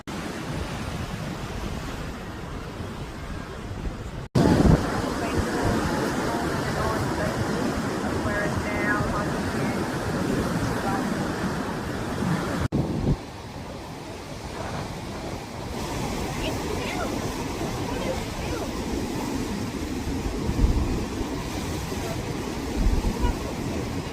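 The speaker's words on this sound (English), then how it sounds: "Waves going up." Heavy ocean surf pounds against a seawall in stormy weather, a loud continuous roar of crashing water with sudden bursts and wind noise on the microphone, with people's voices faint under it.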